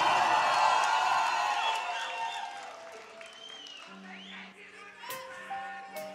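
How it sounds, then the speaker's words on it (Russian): A crowd at a live concert in Sochi claps and cheers for the musicians, with loud applause at first that fades and thins as sustained instrumental tones take over. "Ребят, пожалуйста, я вас прошу, дайте аплодисментов музыкантам."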